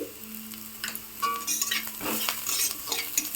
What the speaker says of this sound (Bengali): আমি এখন এই পেঁয়াজ ভাজাটার মধ্যে অল্প লবণ দিয়ে দিচ্ছি